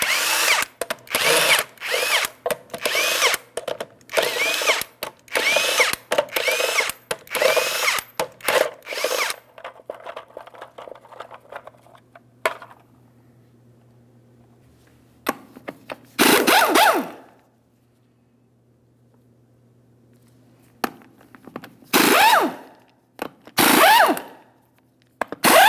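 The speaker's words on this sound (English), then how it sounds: "you're going to remove all 8 of your 22mm lug nuts and then the wheel" Power tool spinning off the eight 22mm lug nuts from the rear wheel of a 2007-2014 GMC Sierra 2500 HD, loud repeated close bursts of whirring with short gaps, then a quieter stretch and a few more bursts near the end.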